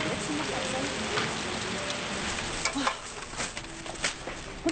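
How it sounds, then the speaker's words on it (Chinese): Heavy rain falls as a steady, even hiss of drops and patter that continues throughout, with a few sharper splashes and no voices. "哇，大雨啊！"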